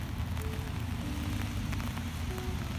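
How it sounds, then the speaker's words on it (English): Rain falls outdoors as a steady, dense hiss with a low rumble, continuous and unbroken throughout. "It's raining today"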